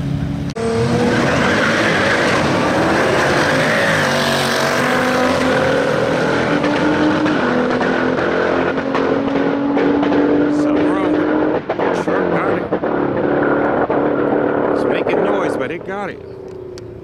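A Nissan GT-R and a Dodge Durango Trackhawk run a low-dollar street roll race, with loud engines roaring and a tire squeal, people talking over the sustained engine noise throughout.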